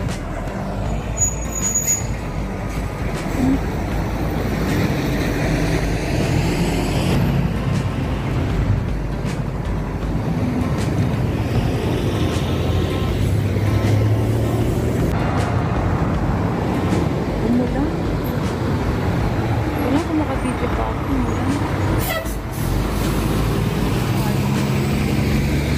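Heavy trucks roll past on a wet road in light rain, a loud, continuous rumble and hiss of tyres with air-brake squeals and passing swells, under occasional talk.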